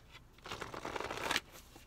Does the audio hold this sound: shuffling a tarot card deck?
yes